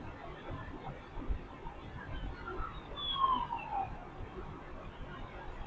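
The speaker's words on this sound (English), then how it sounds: "Oh, ambulance." An ambulance siren wails faintly in the distance, rising and falling as it passes through a suburban area of Maple Grove, low under steady background noise.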